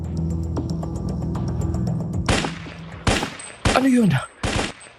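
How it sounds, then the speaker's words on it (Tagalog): Enemy gunfire in a wartime story: four loud, sharp bursts of shots ring out close by in the second half, after a stretch of low rumbling background and a brief spoken question. "Kilala ko ang tunog ng kanilang mga baril."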